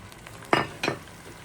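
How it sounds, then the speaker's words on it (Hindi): Tomato puree hits a hot kadhai while cooking chicken boti handi, giving two short bursts of sizzle and stirring clatter over a quiet kitchen background. "ओके चलिए जी, इसमें डाल देते हैं टमाटर की प्यूरी।"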